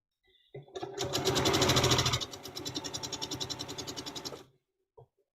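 A sewing machine stitches a row of a quilt, starting with a brief click, then a loud close whirring run that shifts into a pulsing, rhythmic chug before stopping, followed by one short clunk.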